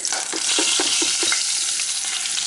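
A flour and spice blend is scraped and stirred through browned venison in a hot cast iron pan, giving steady close sizzling with a run of rhythmic scraping strokes early on and no voices.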